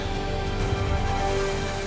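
A steam locomotive's injector sings with a steady hissing, humming tone continuously over a low mechanical rumble, loud and close.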